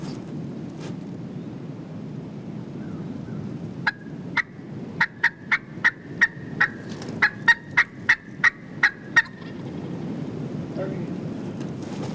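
A wild turkey gobbler gobbles in spring woods in a quick run of sharp, loud calls at fairly even intervals, against light wind noise with no voices.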